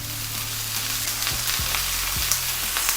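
Onions and peppers fry in oil for a cheesesteak, a steady close sizzle with soft scrapes and taps as they are stirred around the pan.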